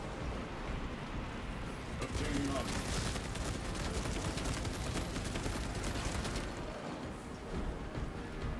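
Heavy bolter fire in Helldivers, a dense rapid burst of gunfire running through the middle, fairly faint and mixed with other game noise.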